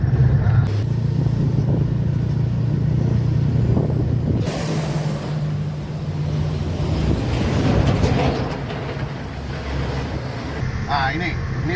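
A Mercedes-Benz Axor 2528 truck drives along in sixth gear, its engine a steady low drone heard from inside the cab, with a sharp hiss partway through and someone talking over it.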